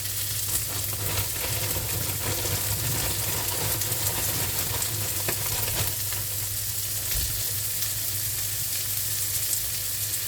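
Green beans and colored bell pepper fry in a pan, a loud, steady close-up sizzle with occasional stirring scrapes and no talking.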